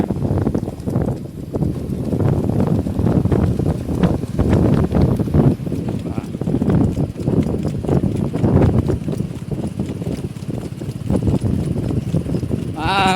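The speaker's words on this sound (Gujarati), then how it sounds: "ધીમે ઘોડી રાખજો" A ridden mare's hooves clip-clop in a steady walking rhythm, close and fairly loud, with wind buffeting the microphone and a voice speaking at times.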